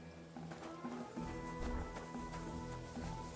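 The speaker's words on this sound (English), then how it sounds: "O cavalo tá ali." A horse in the video game Kingdom Come: Deliverance 2 clip-clops with steady, rhythmic hoofbeats that are fairly quiet, joined by soft background rumble.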